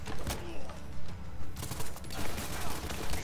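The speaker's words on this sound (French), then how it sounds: "Bon, l'explosion est énorme." Dense gunfire and blasts from the shooter game Borderlands 3, a loud, continuous rattle of rapid shots with a booming explosion mixed in across the whole stretch.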